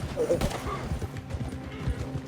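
Horse hooves clip-clop at a steady gait in a video game, a run of rhythmic thuds repeating under loud in-game voices and chatter.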